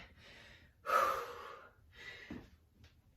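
Heavy breathing from a person doing lunges during a cardio and strength interval workout: a sharp, loud inhale near the one-second mark, followed by softer, quicker breaths, close and with no talk.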